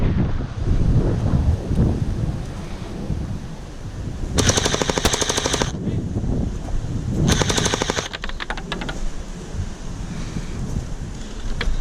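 A JM ACR gel blaster rifle fires two rapid bursts of sharp, clattering shots outdoors over steady wind noise on the microphone, with the second burst trailing into a few scattered single shots.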